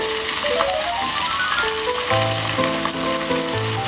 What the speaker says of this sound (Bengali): মশলাটা ভালো করে তেলের সাথে মিশিয়ে নিব।